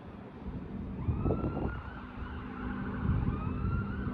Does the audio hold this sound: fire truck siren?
yes